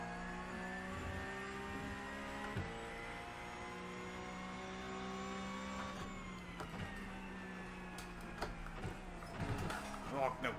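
A Porsche Cup race car engine in the iRacing sim racing game at Imola, sustained high-pitched engine whine with gear shifts and revving dips, alongside a commentator speaking over it throughout.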